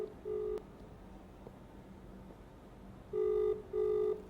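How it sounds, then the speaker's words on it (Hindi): A mobile phone's ringing tone sounds in short repeated electronic bursts, fairly clear over a quiet room hum, with no one talking. "सोनिया का फ़ोन बज रहा है।"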